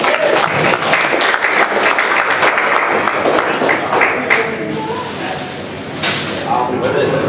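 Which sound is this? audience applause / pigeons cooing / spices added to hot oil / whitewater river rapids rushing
audience applause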